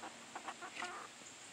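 Chickens, including leghorns, clucking in a backyard coop, a quick run of soft close clucks over a quiet hissy background, with no talk.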